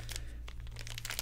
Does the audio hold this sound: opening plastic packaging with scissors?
yes